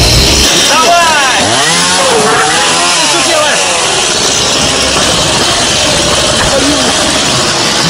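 A loud chainsaw engine whine revs up and down over a steady mechanical drone as it cuts a boat in a video game, with voices talking over it throughout.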